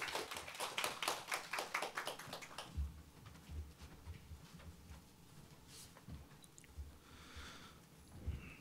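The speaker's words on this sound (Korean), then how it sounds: "다시 한번 큰 박수 부탁드리겠습니다" Audience applause closing an academic presentation at a climate-crisis conference, a dense burst of clapping that fades after a few seconds into quiet room noise with scattered taps.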